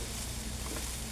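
Food frying in a pan, a dense, steady sizzle held at an even level throughout a brief stretch, with no voices over it.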